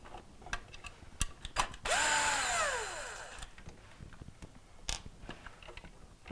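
A power screwdriver backs out a Phillips screw holding the relay cover on an LG refrigerator. It gives one short, rising-then-falling whir of about a second and a half, set among quiet clicks and handling noises.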